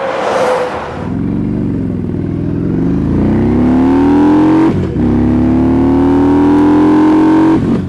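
Heavy traffic streams past on a highway in broad daylight, a loud continuous engine roar with rising and falling tones as cars and motorcycles rush by close up, with no voices.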